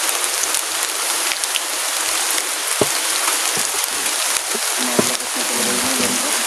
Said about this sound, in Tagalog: Ang lakas ng ulan po.